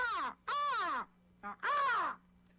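Crow cawing alone at close range: three harsh, drawn-out caws with a short clipped call between the second and third.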